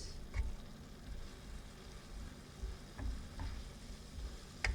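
Chicken sausage frying in coconut oil in a pan, a steady low sizzle with occasional scraping stirs and soft clicks of the utensil, close and fairly quiet.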